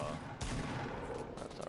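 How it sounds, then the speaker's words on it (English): Gunfire in the Fortnite video game as the player shoots at enemies during a 10-player battle, a steady dense burst of shots over game noise, with one sharper volley near the start. "so this is me shooting at these guys"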